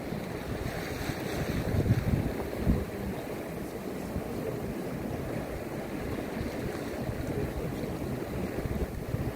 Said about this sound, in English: the yellow water bus that sails around the 14 stops in Copenhagen Harbour